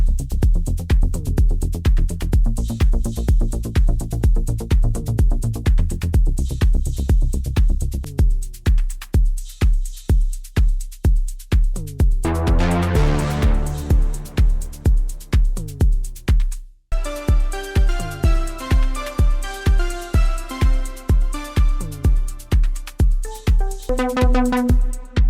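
Novation Peak synthesizer patches play in succession: a thick pulsing bass-heavy groove, then bright rising arpeggiated tones, then a sparkling sequenced lead, loud and continuous.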